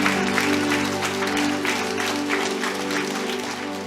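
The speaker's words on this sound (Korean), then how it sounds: "승리와 격려의 박수를 좀 올려드리겠습니다." A church congregation claps together in sustained, dense applause that holds steady at full strength for several seconds.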